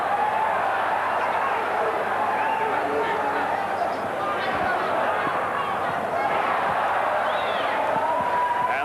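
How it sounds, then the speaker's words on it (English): A boxing crowd at the Simon Brown versus Shawn O'Sullivan fight keeps up a loud, continuous roar and murmur that swells and dips, with a commentator talking over it throughout. "This crowd reacting every time O'Sullivan gets close."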